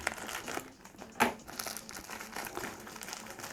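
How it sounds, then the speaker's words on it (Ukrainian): Plastic or paper packaging around a VHS cassette crinkles and crumples close by as a parcel is unwrapped, with a sharper tearing burst in the middle and steady rustling throughout, no talking. "І зараз я її швиденько розпаковую."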